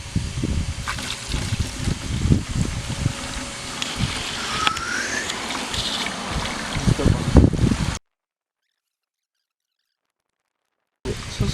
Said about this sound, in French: on va prendre le contenu du bac, on va le remettre dans les anciens.